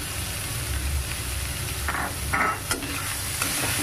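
Paneer fried rice stirred in a hot pan, a continuous loud frying hiss with a few scraping, rustling strokes of the spatula near the end.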